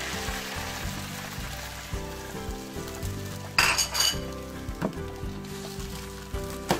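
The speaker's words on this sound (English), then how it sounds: "spread out the eggs, let it cook" Eggs cook in a hot frying pan on lowered heat under a steady sizzle, with scattered clinks and scrapes of a utensil against the pan and a sharper burst of sizzling partway through.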